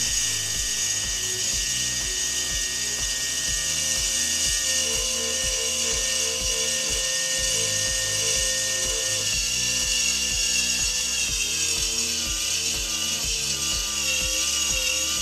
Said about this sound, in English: Finally stopping the spindle.